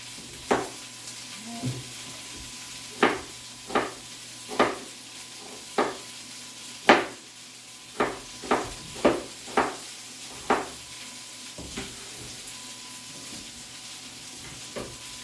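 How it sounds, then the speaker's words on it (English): Red onion frying in a pot, heard as a series of separate sharp sizzle-and-stir bursts over a low steady hiss, close and fairly quiet, with no voices. "we'll just add some of this red onion to the pot"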